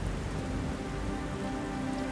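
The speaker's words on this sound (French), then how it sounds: "Il pleut des cordes aujourd'hui." Dense, steady downpour of heavy rain, a constant loud hiss of drops pounding a surface with no pauses or voices.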